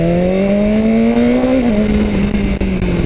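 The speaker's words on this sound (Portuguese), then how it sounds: "ela pipoca até com o escapamento original" A loud BMW S1000 R motorcycle engine revs steadily through its original exhaust, its note dropping slightly, with rough crackling and popping throughout.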